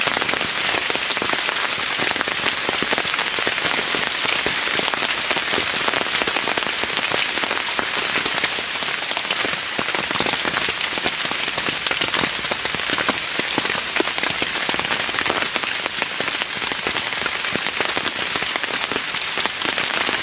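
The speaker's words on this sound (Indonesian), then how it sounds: "Dan hujan ini semakin kayak nggak ada berhentinya teman-teman." Heavy, steady rainfall pours without pause, a dense loud hiss of drops hitting surfaces close by, unbroken for the whole stretch with no voices.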